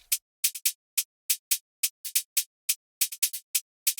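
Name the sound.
two layered hi-hat patterns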